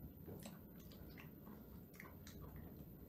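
Close, quiet chewing and biting of a fish-shaped bread pastry, soft moist squishing with light crunchy bites repeating irregularly, with no talking.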